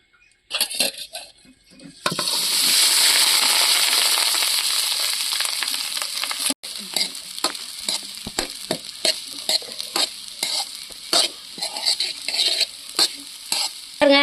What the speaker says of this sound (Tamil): இந்த மாதிரி கிளறணும்.